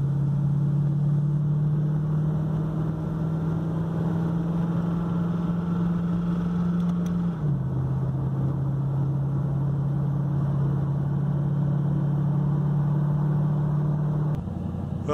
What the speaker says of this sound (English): off to my mechanics the car goes